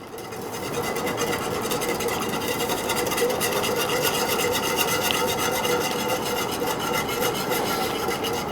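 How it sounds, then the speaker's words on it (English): Polenta is whisked into boiling water in a pot, a steady close-up scraping and rasping rhythm of the whisk running continuously throughout. "Then we're gonna start whisking in the polenta."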